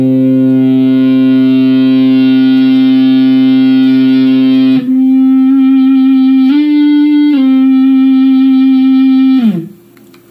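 Electric guitar sustained by an EBow Plus on a clean tone through the bridge pickup: a loud, steady, endlessly held note that shifts pitch twice before fading out.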